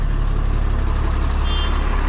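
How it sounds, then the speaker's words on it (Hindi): A vehicle turning around on a road, heard as a steady, loud engine rumble that stays close and constant throughout, with no talk over it. "हम पहले गाड़ी मोड़ेंगे इधर,"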